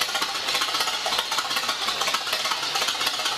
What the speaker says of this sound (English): it's making all the right burbling noises for a Winton engine.